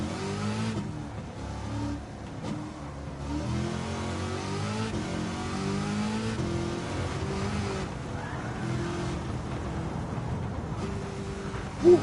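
A mid-engine car in Gran Turismo 7 revs steadily throughout, its engine note rising and falling as the gears change, with no talk over it.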